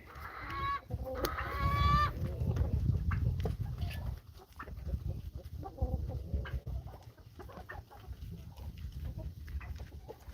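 Chickens and other poultry cluck and squawk in a busy group at morning feed time, with a few higher calls early on and constant scratching and shuffling beneath.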